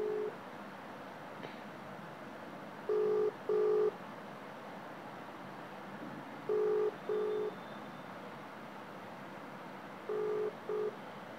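Phone call ringback: repeated pairs of short steady tones about every three and a half seconds over a low line hiss, fairly clear and close, with no voices.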